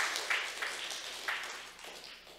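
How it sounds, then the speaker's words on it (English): A church congregation claps in praise, in several soft bursts that rise and fade over a couple of seconds. The clapping sounds fairly distant and thin, with no voices standing out. "give the Lord a clap offering of praise in the house today"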